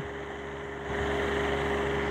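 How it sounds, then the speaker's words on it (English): A farm tractor engine running steadily and then revving up to charge its battery, a loud continuous low drone that rises in level partway through with no voices over it. "He's revving up the tractor to charge the battery."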